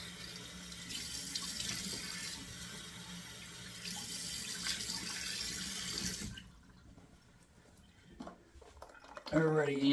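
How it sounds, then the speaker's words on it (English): Running tap water splashes steadily for several seconds, then stops, followed by quieter handling sounds and a brief voice at the end. "the splashes of water go fully over the face here"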